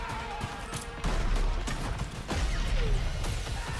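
Gunfire in the multiplayer video game Call of Duty: Vanguard on a snowy map, with rapid bursts of shots and crashing impacts heard continuously, loud and dense for a few seconds.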